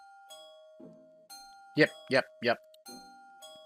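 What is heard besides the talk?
refrigerator door-open chime in a video game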